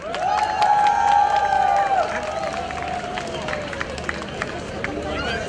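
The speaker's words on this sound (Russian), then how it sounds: "Ваши бурные овации." A crowd at an awards ceremony for a fireworks festival cheers and applauds loudly, with whistles and shouts over steady broadband noise that eases slightly toward the end.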